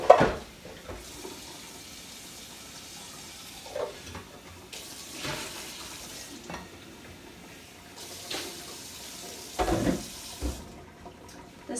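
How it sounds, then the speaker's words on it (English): A container is rinsed and cleaned under running tap water, with intermittent gushing bursts of water and some handling clatter, fairly close, with no talking. "We're gonna rinse and clean this bad boy out."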